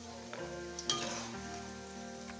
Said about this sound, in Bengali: সমস্ত কোপ্তাগুলো আমি ভেজে নিয়েছি, সবগুলো এখন নামিয়ে নিচ্ছি।